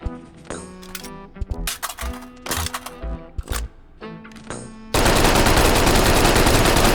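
A WWII submachine gun fires in the H3VR virtual reality game, several rapid bursts and single shots crackling close and loud, followed by a sudden, sustained wash of harsh noise.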